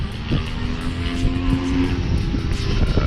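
Small MiniGP racing bikes passing on a track during an overtake, a buzzing high-revving engine drone with a rising whine, fairly close and steady.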